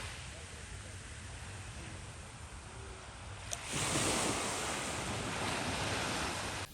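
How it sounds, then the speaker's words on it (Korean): Ocean waves wash steadily at Fusaki Beach on Ishigaki Island, Okinawa, on an overcast winter day. The surf is a continuous hiss with strong wind buffeting the microphone, and it grows louder about halfway through. "언제 들어도 파도 소리는 정말 좋은 것 같아요."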